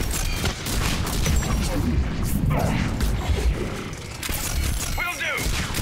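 Rapid missile explosions in the video game Mass Effect 3, dense rumbling blasts and crashing impacts in continuous heavy barrage, loud and close, with game voices briefly audible beneath.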